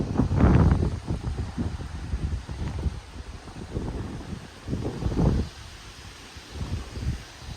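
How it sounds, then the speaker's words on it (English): Strong gusts of wind roar across a house yard during a Labor Day windstorm with rain starting, surging loudly near the start and again around five seconds, with rustling and buffeting between the bursts. "big wind gust right there"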